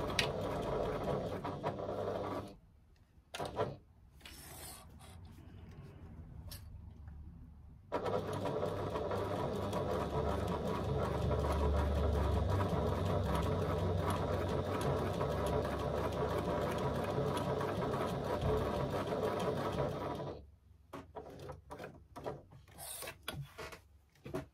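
A sewing machine runs a quarter-inch seam, stitching steadily for long stretches with brief pauses and short back-stitch bursts at the start, its motor whirring loud and close with no talk.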